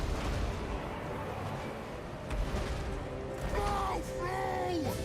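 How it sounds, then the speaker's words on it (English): Cannon artillery fire in a chaotic fantasy battle video game, dull booming shots under constant battle noise, with shouted voices and a music-like tonal swell near the end. "The cannons are gonna hurt us and not you."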